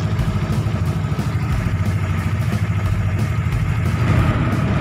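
Yamaha RS150R motorcycle engine with a fault, running close by in a steady, loud rumble with mechanical clatter, the revs creeping up slightly toward the end without being throttled.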